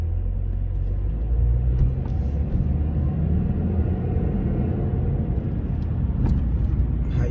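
Steady low engine and road rumble from inside a moving car, continuous and fairly loud throughout with no talking.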